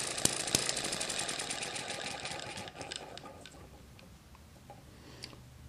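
An Eachine ET7 hit and miss model engine running at about 1600 RPM, with a steady fast mechanical ticking and clatter that is loud at first and then gradually fades and slows.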